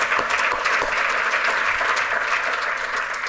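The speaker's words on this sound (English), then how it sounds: "I think we should give them another round of applause" Sustained applause from a large audience at a community college awards event, steady dense clapping throughout.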